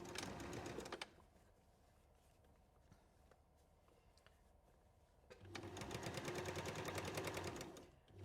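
A sewing machine runs a rapid, even stitch across a fabric bowl seam, stops for a few quiet seconds, then starts up again in a second steady burst.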